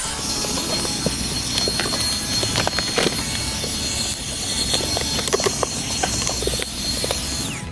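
A small, cheap vacuum cleaner runs at maximum speed with a steady, loud whine and airflow hiss, punctuated by rattling clicks and knocks of debris being picked up, continuous with no talking.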